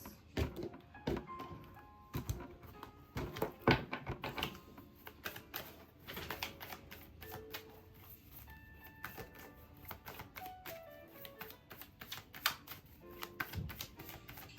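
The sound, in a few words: cutting and shuffling tarot cards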